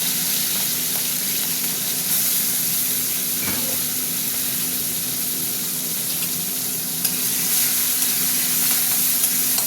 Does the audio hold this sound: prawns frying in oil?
yes